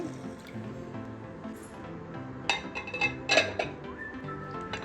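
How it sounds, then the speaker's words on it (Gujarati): Water is added to rinsed mung beans in a bowl for soaking, heard as a few close splashes and drips around the middle, under background music. "હવે અંદર પાણી એડ કરી અને મગને પલાળી દઈશું પાંચ કલાક માટે"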